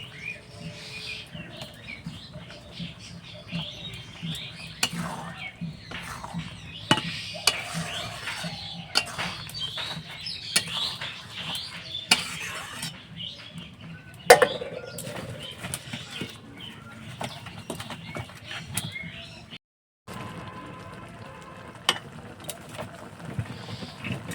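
Spiced food for cauliflower kachori and ghugni stir-fried in a pan, with continuous scraping, clinking and sizzling-like clatter from a spatula against the pan, moderately close, with a brief silent gap near the end and no talking.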